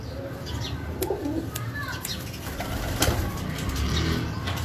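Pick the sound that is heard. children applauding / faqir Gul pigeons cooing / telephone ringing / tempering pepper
faqir Gul pigeons cooing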